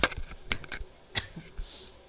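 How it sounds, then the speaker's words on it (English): Someone types an HTML document into a notepad on a computer keyboard, giving a brief run of crisp, irregular key clicks, close and fairly clear, with no talking. "we'll start typing the document"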